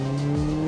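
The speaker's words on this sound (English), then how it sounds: "280 brake horsepower, the back mono is a road-legal supercar" A BAC Mono road-legal supercar with 280 brake horsepower runs on an airport runway, its engine a steady, loud drone held close throughout a brief moment with no talk.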